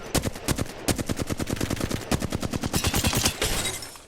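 Rapid automatic gunfire from an Apex Legends match, a steady string of about thirty close, loud shots spread across several seconds, with a brief gap early on and then continuous firing until it trails off.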